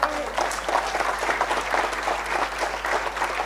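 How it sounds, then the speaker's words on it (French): Sustained applause from a crowd, dense clapping at an even level for a few seconds. "Mais on peut l'applaudir très fort."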